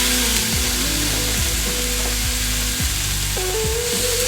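Steak frying in olive oil in a pan for a copycat Jersey Mike's Big Kahuna cheesesteak gives a loud, steady sizzle that holds for the whole span, with low scraping and knocking over it and no voices.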